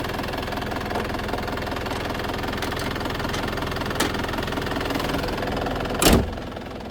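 An Isuzu TFR pickup engine idles steadily nearby with a low, slightly knocking rumble, and a brief louder rev or thump near the end.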